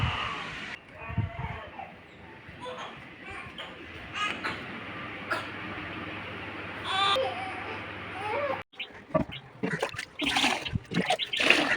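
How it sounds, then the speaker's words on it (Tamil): An infant cries and whimpers intermittently amid household sounds and running water, with adults talking nearby. "பாப்பா அழுவுற சவுண்டு கேட்டுருச்சு"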